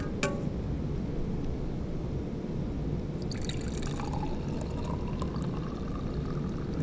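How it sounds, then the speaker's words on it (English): Red cabbage juice poured off from a frying pan gives a steady, continuous liquid splashing and trickling stream, close and moderately loud throughout. "All right, so now we'll pour off the juice."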